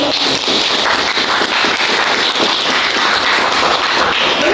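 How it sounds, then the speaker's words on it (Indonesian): Students in a classroom, during a lesson on cigarette smoking and lung cancer, break into dense, loud, continuous applause that fills the room with no pause. "Tepuk tangan"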